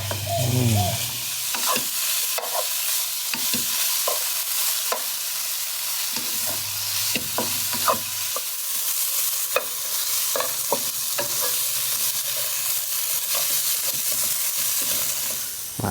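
Pork belly sizzles gently in a pan over low heat, a steady hiss of fat overlaid with repeated scraping clicks and clatters as it is stirred and tossed throughout.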